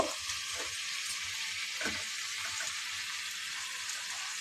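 Fried pointed gourd stirred into a hot spice masala for a simple vegetarian potato and pointed gourd curry, giving a steady, even sizzle of frying with a few soft stirring scrapes, close and fairly quiet.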